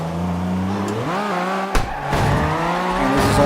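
Simulated car engine in CarX Drift Racing Online holds a steady drone, then its pitch sweeps upward and drops sharply at a gear change, with a brief tire-like scuff before the revving resumes, loud and close.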